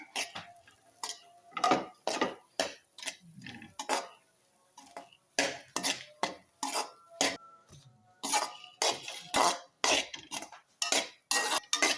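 Cake crumbs with cardamom being roasted in a pan for cake halwa, a spoon scraping and stirring in rapid, uneven strokes, close and clattering with metallic clinks, no voices.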